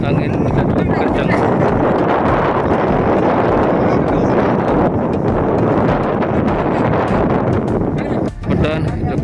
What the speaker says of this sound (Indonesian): angin juga cukup kencang